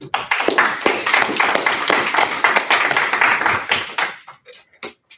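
A small audience claps after a speech at a secondary school debating national championship round, a dense burst of applause that thins out into a few last scattered claps.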